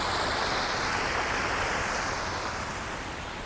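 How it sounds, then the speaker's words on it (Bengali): An artificial man-made waterfall in Qatar, water pouring down from above as a steady, loud, broadband rush that fills the whole stretch without a break and fades slightly toward the end. "এখানে পানিটা পড়তেছে উপর থেকে এসে"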